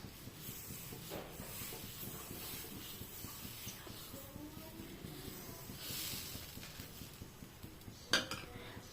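Pesarattu batter, a green gram dosa, cooks on a hot pan with a soft steady hiss, broken by light scraping and clinks of a utensil on metal, with one sharper clack near the end.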